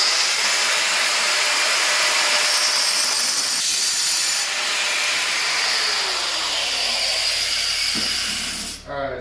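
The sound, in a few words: diamond blade plunge-cutting ceramic tile in shower wall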